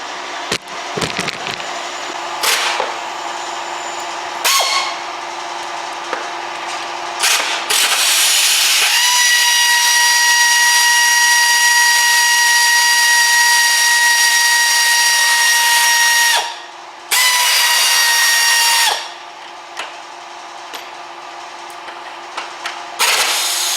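A power tool, likely an impact gun, removes 17mm engine mount bolts on a Peugeot 308 in a garage. Short loud rattling bursts give way to a long sustained whining run, then a pause and another burst.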